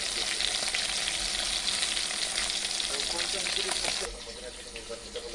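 Tilapia fish frying in hot oil, a loud, dense, steady sizzle close by that drops slightly in level near the end, with no voices over it.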